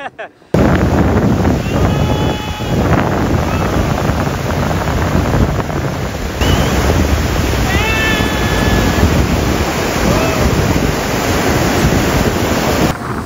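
Sea waves breaking at Puri beach, a loud, continuous roar of surf with heavy wind buffeting the microphone, while a few faint voices and whistles rise briefly in the background.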